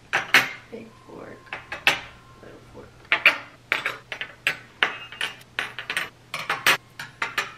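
Spoons, forks and a knife are set down one by one for a Ramadan table setting, giving a run of bright metallic clinks and taps close by, with a faint voice between them.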